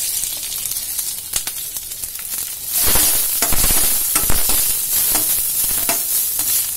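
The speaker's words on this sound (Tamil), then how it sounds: "இது மூணுத்தையும் போட்டு சாட்டே பண்ணிக்கலாம்." Onion, carrot and half a capsicum sizzle steadily in a pan, the frying hiss growing louder partway through, with scraping and stirring clinks over it and no talking.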